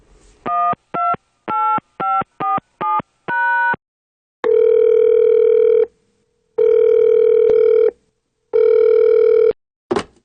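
A telephone call to the South Korean embassy begins with a quick run of separate dialing tones, followed by three long ringback tones with pauses between them, clear and loud with nothing else around them.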